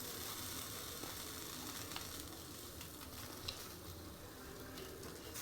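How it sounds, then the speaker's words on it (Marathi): An aubergine roasts slowly over a low gas flame for smoked baingan bharta, its oil seeping out with a faint, steady, continuous sizzle and crackle throughout. "अशा पद्धतीने बारीक गॅसवरती त्याला व्यवस्थित असं भाजून घ्यायचं."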